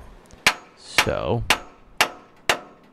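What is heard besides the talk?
hammer pounding truck shock absorber into lower mounting bracket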